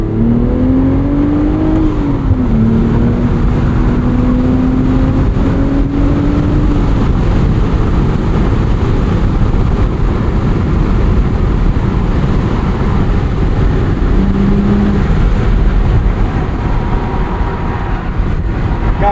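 2025 BMW Z4 M40i with a six-speed manual, driven hard through corners: loud, close engine note that rises and falls with revs and shifts, steady road roar underneath, no talking.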